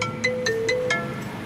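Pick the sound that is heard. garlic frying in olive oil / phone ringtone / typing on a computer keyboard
phone ringtone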